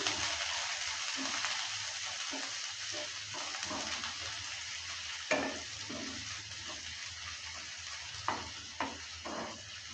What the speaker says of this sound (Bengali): পেঁয়াজ আর রসুনটাকে ভালো করে একটু ভেজে নেব লাল লাল করে